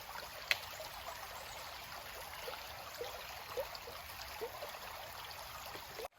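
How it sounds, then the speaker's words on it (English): Water streaming steadily from a Bachgold water filter bottle when pressed, a continuous close hiss and trickle with faint drips, ending with a brief click. "And then you just push down, giving it a slight twist to the right."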